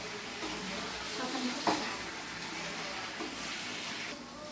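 Chicken gravy masala seasoned with salt sizzles in a pan while being stirred, a low steady crackle with soft scraping strokes of the spoon.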